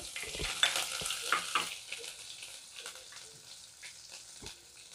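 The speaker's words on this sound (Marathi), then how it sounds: "आणि येथे तमालपत्र पण टाकणार आहोत आपण फोडणीमध्येच आणि लसूण आणि अद्रकची जी पेस्ट केली होती ते टाकायची यामध्ये" Ginger-garlic paste and a bay leaf hit hot tempering oil, giving a bright, loud sizzle burst that settles into softer crackling and spatula scraping, with a few short clicks toward the end.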